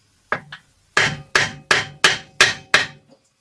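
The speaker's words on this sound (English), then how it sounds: "I'm just going to find my trusty little hammer and I'm just going to tap up on it." A small hammer tapping on a part of a Sears YT3000 lawn tractor's Briggs Intek engine, two light taps followed by six sharper, evenly spaced metallic knocks, close and clear with silence between them.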